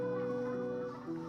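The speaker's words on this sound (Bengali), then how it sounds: "আর এই যে দেখতে পাচ্ছেন কতগুলো মুরগি।" Chickens on a poultry farm clucking steadily and close by, with overlapping hen calls continuing through the short moment.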